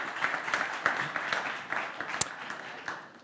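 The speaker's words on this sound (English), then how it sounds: "Applause for you." Conference attendees at a smart city forum in Tallinn give a speaker a short round of applause, a moderate wash of overlapping claps with a few sharper individual hits.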